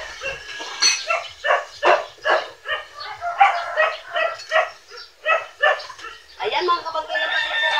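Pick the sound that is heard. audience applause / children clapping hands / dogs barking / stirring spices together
dogs barking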